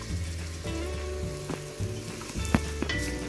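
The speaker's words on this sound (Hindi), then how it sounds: "और इनको अच्छी तरह फ्राई कर लूँगी" Chopped onions frying in a few spoonfuls of oil in a pan for mutton keema: a steady close sizzle with a few scraping stirs and a sharp clink partway through, with no talking.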